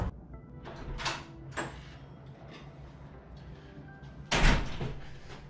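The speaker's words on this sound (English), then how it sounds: "I've been wanting to do a Casey Neistat door entry for like 2 years, so might as well do it now." An apartment door on the seventh floor opens for an entrance, with a few clicks and knocks of the latch and handle followed by a louder thud as the door swings and hits, in a quiet indoor hallway.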